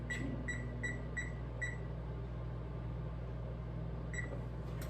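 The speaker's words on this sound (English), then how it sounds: "Timer" A kitchen timer set while cooking gives several short, evenly spaced high beeps, then falls quiet before one more beep near the end, all over a steady background hum.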